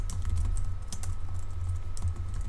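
Someone types on a computer keyboard: a quick, uneven run of close key clicks and taps over a low background hum.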